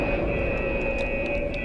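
A missile launching in the Minecraft ICBM mod, a steady loud rushing roar like a jet engine that holds at constant strength throughout.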